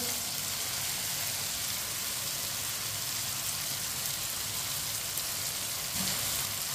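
Chopped onions sizzle in a hot pan for Pyaz Ki Sabzi, a continuous soft crackling hiss like light rain that stays steady and fairly quiet, with a faint stir or clink near the end and no talk.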